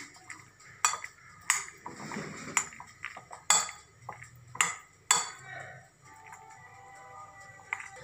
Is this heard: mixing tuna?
yes